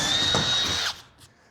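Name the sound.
power drill driving construction screws into steel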